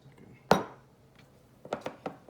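Utensil scraping and clinking against a dish while mixing a seasoned mac and cheese topping with cayenne, one firm knock followed by a few lighter taps, close and fairly quiet.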